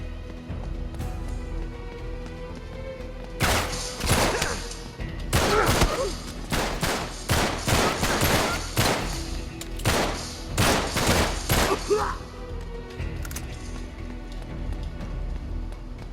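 Ambush gunfire in the video game Uncharted 3: Drake's Deception, with loud bursts of rapid shots in clustered volleys through the middle section over a constant ambient game rumble, no speech during the shooting.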